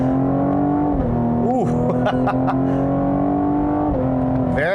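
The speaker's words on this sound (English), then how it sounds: "Nice sound coming from the exhaust." A 2020 Cadillac CT5-V accelerates hard, its engine note sustained and loud, with the 10-speed transmission shifting crisply so the pitch drops and climbs again several times; a person exclaims briefly over the exhaust sound.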